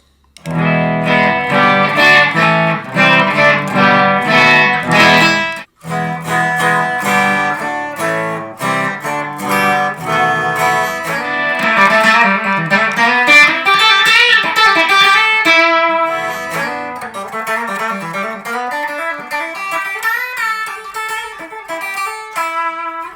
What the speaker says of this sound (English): Now let's hear the Gibson with just the bridge pickup.